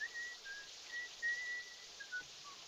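A man whistles a melody in the shower in the 1959 film North by Northwest, a thin, fairly faint tune of broken notes over a steady hiss of running water.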